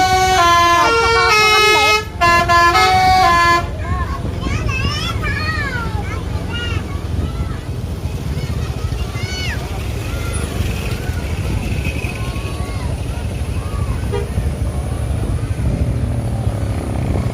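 A Basuri-brand telolet horn on an Indonesian bus plays a loud, stacked melodic tune for a few seconds, then gives way to loud crowd noise, engine rumble and shifting whistle-like tones.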